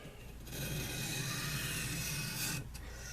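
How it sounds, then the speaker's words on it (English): A pocket knife edge drawn lightly across a 1500 grit sharpening stone, giving a steady close rasping scrape that swells after half a second and runs continuously for about two seconds before easing off. "we're going to see if we can, with this 1500 grit, just touch up that edge a little bit."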